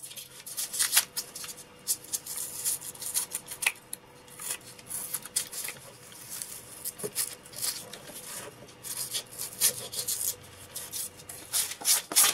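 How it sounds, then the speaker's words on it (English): Sandpaper rubbing over a clay-like doll marionette, an irregular run of quiet scratchy strokes and rasps at close range, with no voices. "You can also sand it."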